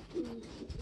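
Two pet birds give a brief soft cooing call close by, a single low murmur in a quiet moment.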